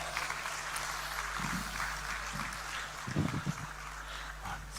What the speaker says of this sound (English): please give a warm round of applause to our panel